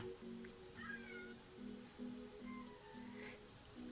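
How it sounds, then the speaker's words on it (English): A house cat meows repeatedly at a closed bedroom door, a run of short rising cries in a fairly steady rhythm, faint and somewhat distant over a quiet room hum. "if you hear a lot of meowing, my cat is trying to break into the"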